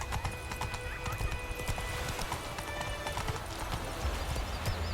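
A horse gallops in The Witcher 3 video game, with rapid rhythmic clip-clop hoofbeats throughout and a whinny, close and steady under a faint background.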